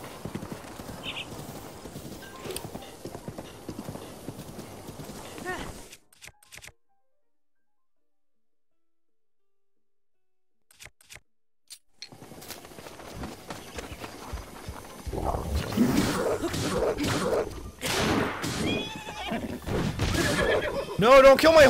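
A horse in The Legend of Zelda: Breath of the Wild neighs while hooves clop along, interrupted by a few seconds of silence, then louder galloping and whinnying resume as people talk over the game.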